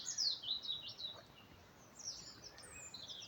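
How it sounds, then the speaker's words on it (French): Birds sing outdoors, with faint, thin chirps and short trills coming in scattered bursts over a quiet background hiss, somewhat distant. "écoutez les oiseaux, les chants des oiseaux"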